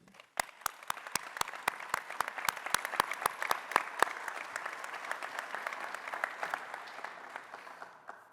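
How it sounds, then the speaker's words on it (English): Applause at a university convocation in honor of campus staff: a few sharp, distinct claps ring out first, then a fuller, even spread of clapping carries on for several seconds at moderate volume. "please join me in a round of applause wherever you are, particularly for the staff"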